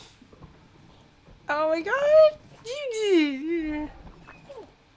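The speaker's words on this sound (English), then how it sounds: "it makes cute doggy noises" Cerberus, the three-headed infernal watchdog in the video game Hades, lets out a few close, whiny whimpering cries over a quiet backdrop, with a voice exclaiming briefly.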